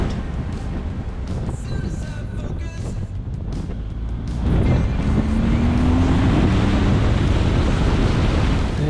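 Vehicles pass on the Stelvio Pass switchbacks on a sunny June day in the Alps, their engine and tyre noise swelling and growing louder and closer halfway through, with a steady roadside roar underneath.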